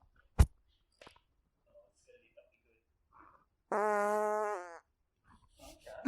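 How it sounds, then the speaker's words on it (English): A single loud, sustained fart rumbles for about a second in a quiet room, following some sparse clicks and rustles. "I reckon I got a big fart."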